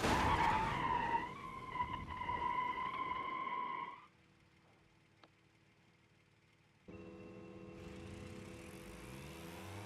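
Tires of a car in a video game skid and squeal loudly for about four seconds, the sound dropping to a low engine hum before the motor revs up again near the end.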